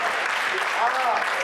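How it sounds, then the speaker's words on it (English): A church congregation at an Apostolic assembly service claps hands in praise, a dense, loud, continuous wash of applause with voices rising faintly through it. "why don't you clap your hands and give him a hand praise?"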